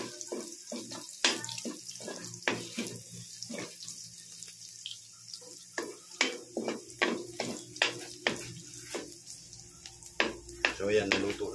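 Onion and garlic sauté in a pan, giving a faint continuous sizzle beneath repeated sharp scrapes and clacks of a utensil stirring against the pan, close and irregular, with occasional quiet voices.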